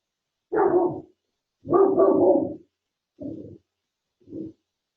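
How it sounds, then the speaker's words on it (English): A dog barks outside through an open door, four separate muffled barks spaced over a few seconds, the first two longer and louder, the last two shorter and softer, with silence between. "Dog's barking."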